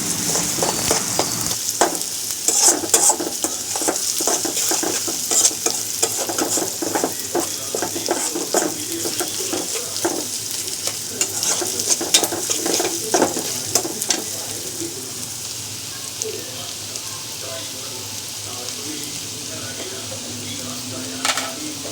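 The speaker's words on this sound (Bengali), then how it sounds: "তেলের মধ্যে পেঁয়াজ দিয়ে ভালোভাবে নেড়েচেড়ে ভাজা ভাজা করে নিতে হবে" Onion fries in hot oil for a chepa shutki bharta made with bamboo leaves, sizzling steadily at close range while a spatula stirs and scrapes the pan in frequent rhythmic strokes. Toward the end the scraping thins out and the sizzle continues alone.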